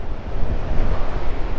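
Strong wind buffets the microphone on a motorcycle ride through windy, steep country around Dingalan, Aurora, producing loud, gusty low rumbling that rises and falls unevenly. No one speaks.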